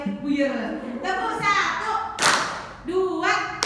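Schoolchildren in a classroom clap a counted rhythm on a teacher's cue, several crisp group claps over loud overlapping speech from the teacher and the class.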